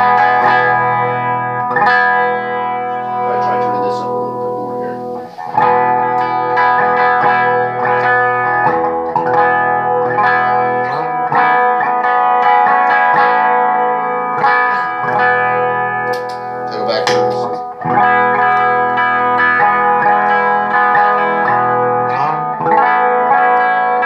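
Electric guitar playing continuous chords and notes through a Jamtastik effects pedal with the modulation turned fully down, giving a sustained, slightly distorted, reverberant tone that stays loud for over twenty seconds with no voice.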